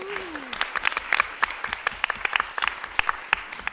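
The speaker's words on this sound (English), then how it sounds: "with the applause and everything, great start" A small crowd claps enthusiastically, sharp overlapping hand claps filling the room for a few seconds.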